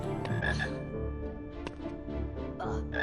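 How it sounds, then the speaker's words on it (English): A frog in the video game Hogwarts Legacy croaks in loud, repeated guttural bursts, close and dominant over a faint musical game background, with no speech. "The loudest frog."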